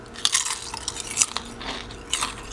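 Crisp, brittle crunches from biting into homemade potato chips, three or four sharp bites spread out, close and fairly loud with no talking.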